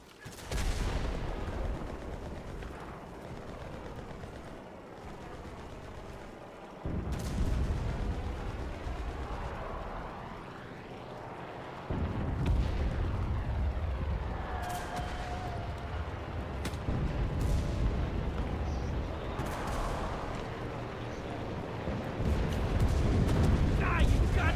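Artillery barrage in the video game Enlisted: several heavy booms with long rumbling tails rolling in every few seconds over a constant din of battle, with voices talking through it.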